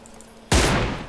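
Burst of automatic gunfire in the battle royale game PUBG Mobile, erupting suddenly after a quiet moment as loud, dense, sustained shots.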